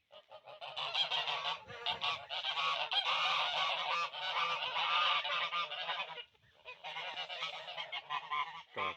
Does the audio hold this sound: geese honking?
yes